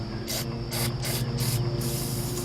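Several short bursts of hissing aerosol spray onto a dipstick tube, about four quick pulses and then a longer continuous spray, close and fairly loud over a low motor hum.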